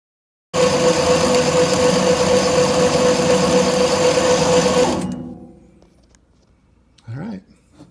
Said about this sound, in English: I've set the adjustable coarseness fineness to a fine grind on wheat, and let's give it a spin.